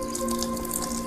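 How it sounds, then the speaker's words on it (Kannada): Water splashes and trickles into a mixer jar of rice for moong dal dosa batter, a steady close pour without any voices. "ಬೇಕಾಗುವಷ್ಟು ನೀರು ಹಾಕೊಳ್ಳೋಣ."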